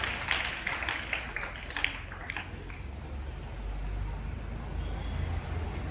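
Students and staff applaud during a prize announcement at a school science exhibition. A burst of claps from a crowd in a room fades after a couple of seconds into low room noise.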